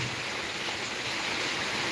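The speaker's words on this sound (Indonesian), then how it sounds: "Jadi dari Kota Maros tadi sampai di Lapri ini saya terus diguyur hujan" Heavy rain pours steadily on Lapri, Bone, as a dense, even broadband hiss that stays loud and close from start to finish, with no voices over it.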